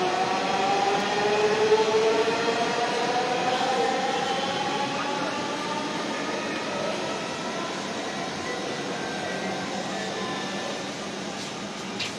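A metro train runs steadily between Agargaon and Secretariat, heard from inside as a continuous rumbling drone with a rising mechanical whine, fairly loud and unbroken throughout.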